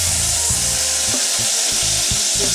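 Butter melts and sizzles in a pan with shallots, thyme and bay leaf, a steady loud crackle and hiss broken by low thumps and scrapes from handling.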